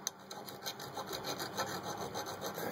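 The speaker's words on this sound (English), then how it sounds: "dress up the end with a file just to make a flat so that it threads in" A hand file rasps across the freshly cut end of a bolt, dressing a flat so a nut will thread on; steady rhythmic strokes, close and fairly quiet, with no talk.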